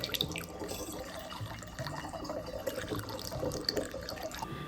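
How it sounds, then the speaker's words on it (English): Brita-filtered water being poured for mead brewing, a close, continuous trickling splash with small drips, steady and moderately quiet throughout. "Okay, I'm gonna use my Brita water, because that's filtered."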